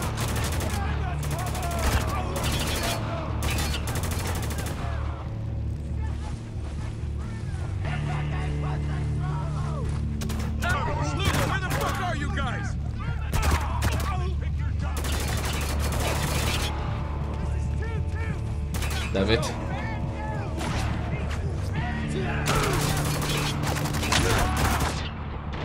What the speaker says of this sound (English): I shoot back!